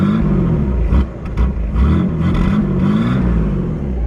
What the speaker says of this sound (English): Nice sounding little engine